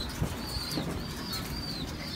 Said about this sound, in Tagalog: ronda-ronda lang tayo ng paronda lang ng kalapati